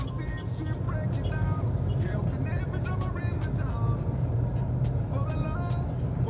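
A 2017 Mazda CX-5 idles with its brakes held down: a steady, close low-pitched engine rumble continues throughout, with faint voices mixed in.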